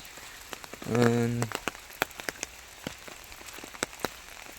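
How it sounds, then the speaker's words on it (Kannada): Steady rain patters outdoors in a broad, even hiss, broken by scattered louder drops. A brief tonal hum rises near the start, and no voices are heard. "ಮಳೆ ಅಂದರೆ ಮಳೆ ಇವತ್ತು ಫುಲ್ಲು"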